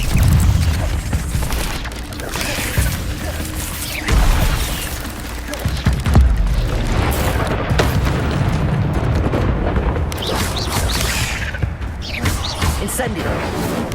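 Fire spell blasts in the video game Hogwarts Legacy erupt as repeated booming bursts over a dense, continuous layer of battle noise, loud and close throughout.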